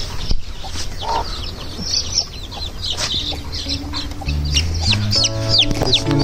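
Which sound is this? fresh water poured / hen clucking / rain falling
hen clucking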